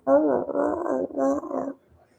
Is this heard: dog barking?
yes